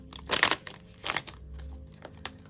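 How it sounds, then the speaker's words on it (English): A deck of tarot cards is handled and shuffled at close range, giving a few quiet bursts of riffling and crinkling card noise separated by short pauses. "And I just shuffled."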